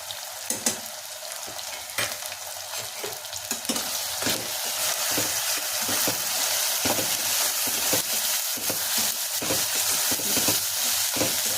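Mushroom biryani masala with ground paste and garam masala sizzles steadily in a pan, a dense continuous frying hiss with spoon scrapes and stirring clatter throughout, getting a little louder after the first few seconds.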